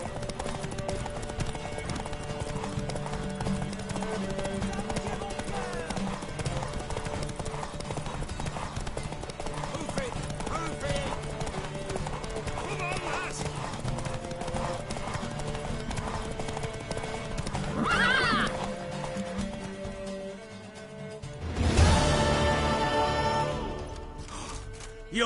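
Horse hooves clip-clopping at a gallop in The Witcher 3 game, steady and close throughout, with a loud whinny near the end over continuous game music and ambience.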